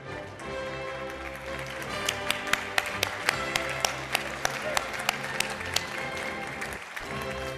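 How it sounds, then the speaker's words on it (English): Audience applause at a national real estate awards ceremony, a sustained round of clapping with a few sharper individual claps standing out, while a voice speaks over it. "a huge round of applause"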